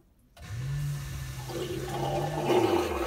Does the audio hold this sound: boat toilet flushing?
yes